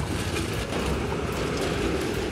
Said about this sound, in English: And there goes my tram.